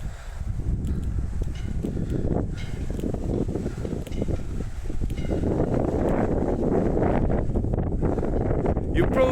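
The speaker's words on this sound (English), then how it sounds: "you probably won't be able to hear me mumping and moaning anyway because of the wind" Strong gusts buffet the microphone outdoors at Bannockburn near Stirling, Scotland, a loud continuous rumbling roar that swells and eases throughout, with a voice partly buried beneath it.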